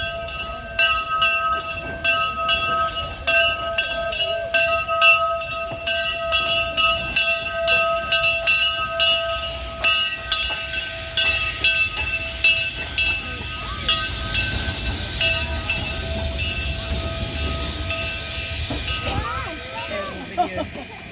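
A train on the Zig Zag Railway idles with a steady mechanical hum and hissing steam, irregular clanks and rattles over the top, with faint voices in the background.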